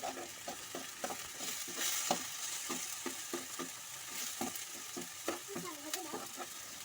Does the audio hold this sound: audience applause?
no